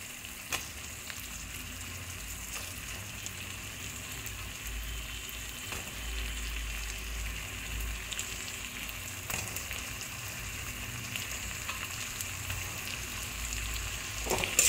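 Fried cauliflower florets hit an oily spice masala in a pan and sizzle steadily, a soft continuous hiss with faint crackles and occasional stirring scrapes, heard alone without voices.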